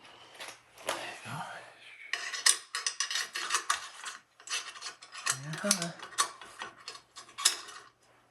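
An AR rifle's charging handle and bolt are fitted during assembly from parts: close metallic clicks, ratcheting slides and rubbing scrapes in quick succession, with someone speaking briefly under the mechanical noise.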